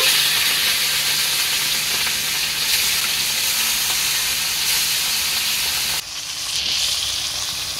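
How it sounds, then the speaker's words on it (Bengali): Hilsa fish sizzle as they fry in hot white oil in a wok, a loud continuous crackling hiss that drops off sharply near the end before picking up again more softly. "কড়াইয়ের তেল গরম হয়ে গেছে। এবার আমি মাছগুলোকে দিয়ে দিই"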